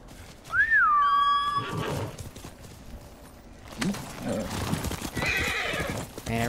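A horse in the video game Ghost of Tsushima neighs in a rising and falling whinny, followed by hoofbeats clip-clopping, fairly close with no talking.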